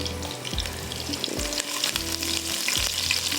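Garlic, curry leaves and onion frying in hot oil as a tempering for a kofta handi tarka, making a loud continuous sizzle with several low thumps of stirring and no talk.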